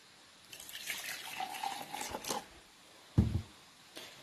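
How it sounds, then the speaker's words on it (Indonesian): Water trickles and drips into a bowl of garlic, shallot and pepper for cilok dough, a faint close pouring sound followed by a short splash and a few drips. "Ini airnya ditambahin secukupnya aja ya teman-teman."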